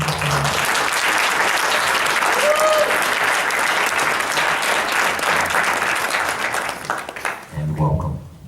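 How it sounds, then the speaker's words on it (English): Audience at a school eighth grade rite of passage ceremony applauding, a dense, steady wash of clapping that holds loud for several seconds before thinning out near the end. "So could you please just again give them a round of applause"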